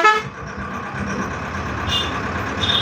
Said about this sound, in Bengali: বাস এখন ছেড়ে দিল।